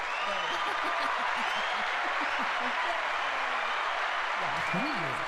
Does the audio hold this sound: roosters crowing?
no